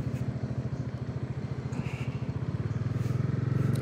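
Motorcycles and tricycles run past on a road beside a partly opened flyover, a steady near engine drone with rhythmic putter that grows louder toward the end.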